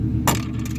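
A rubber mallet strikes the fuel shut-off button of a 2003 Ford Mustang GT once, a short dull knock over the steady low idle of the running 4.6-litre V8.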